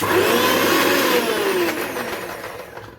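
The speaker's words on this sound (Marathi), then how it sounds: "हे मिश्रण मी आता मिक्सरमध्ये फिरवून घेणार आहे" A mixer grinder whirs loudly and steadily as it blends boiled raw mango into pulp, a continuous motor drone that eases slightly toward the end.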